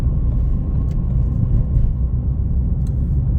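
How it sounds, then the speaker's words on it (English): A Ford Fiesta Mk7 Zetec engine idles steadily with a smooth, even low rumble, close by and continuous, with no talking. "They're such a smooth engine when they're running right."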